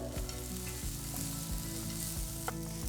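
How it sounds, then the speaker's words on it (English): Onions sautéing in a pan with green chilli, curry leaves and chopped cashew nuts, a steady close sizzle with faint stirring scrapes and no talk. "So you can see the onions have become transparent, and once they've started turning to a nice golden color, turn off the stove."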